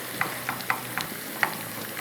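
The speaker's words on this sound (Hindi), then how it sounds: "पहले हम तड़का लगा लें क्योंकि हमने जो है वो प्याज़ों को ज़्यादा डार्क कलर नहीं देना" Onions frying in hot oil for a tadka tempering, browned only to a light golden colour for a mixed vegetable kadhi, give a steady close sizzle broken by several short stirring scrapes, with no voices.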